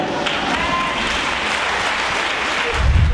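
A church congregation at a Sunday service applauds and cheers loudly, with dense sustained clapping from a large crowd filling the room throughout and a deep boom rising at the end.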